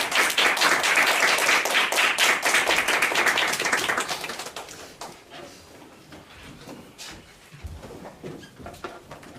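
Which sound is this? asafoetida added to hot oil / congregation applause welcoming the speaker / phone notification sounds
congregation applause welcoming the speaker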